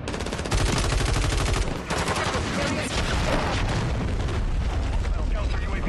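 Dense, continuous gunfire and booming blasts fill a Call of Duty Modern Warfare 3 multiplayer match as an enemy missile launches, loud and sustained throughout, with a game announcer voice speaking over the action.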